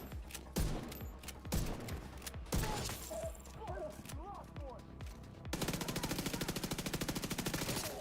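A video game gun fires at a decoy in a hardcore realism campaign, with scattered sharp shots followed by a rapid sustained burst of automatic fire, loud and close amid other game noise.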